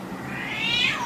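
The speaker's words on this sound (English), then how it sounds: "I'm extremely sorry about my Cleopatra meowing because she's in heat right now" A female cat in heat gives a single drawn-out, rising and falling meow, clear and fairly close, with no talking over it.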